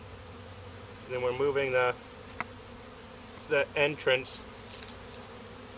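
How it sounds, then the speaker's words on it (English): Honeybees drone steadily around the entrance of a backyard hive being adjusted for spring, a close, continuous buzz with someone speaking briefly over it. "I'm trying to not to kill these bees as I do it"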